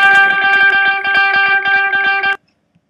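Electric guitar through the delay sandwich effect preset, a sustained chord with rapid rhythmic picked pulses repeating under it, loud and close, then cutting off abruptly into near silence.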